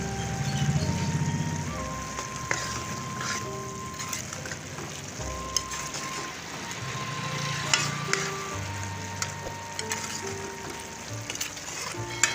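Chopped green chillies and fresh coriander fry in a hot pan, giving a steady close sizzle and crackle with occasional stirring scrapes and clicks, no voices over it.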